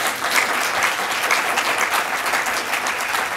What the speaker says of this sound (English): that it deserves a round of applause